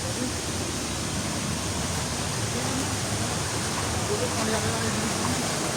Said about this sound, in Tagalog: dito maririnig mo yung tubig dito